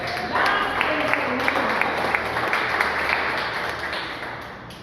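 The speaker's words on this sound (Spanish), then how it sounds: "un aplauso para Félix" Audience at a Christian teaching session gives a round of applause for a man, a moderate crowd of clapping hands, steady and slightly distant, gradually tapering off.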